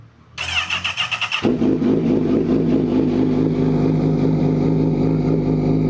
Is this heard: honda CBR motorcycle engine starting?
yes